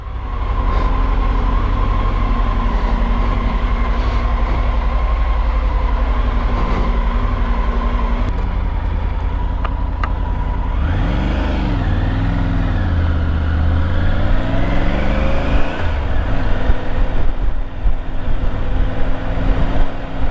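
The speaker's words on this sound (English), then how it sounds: "Okay, let's get going on this bike." A Triumph GT Pro motorcycle ridden on a warm day gives a steady, loud engine drone that rises and falls in pitch as it pulls away and changes speed, with continuous road and wind noise.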